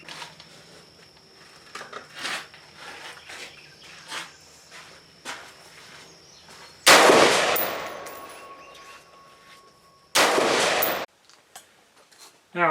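A rifle fitted with a Bear Creek 20-inch black nitride heavy barrel fires two loud, sharp shots several seconds apart, over a quiet outdoor background with faint insect chirping.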